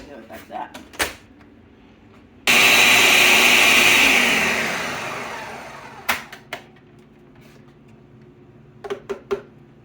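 A food processor grinds potatoes for a mock crab bisque, a loud steady whirring burst that starts abruptly and fades over a few seconds, with quieter kitchen clatter before and after.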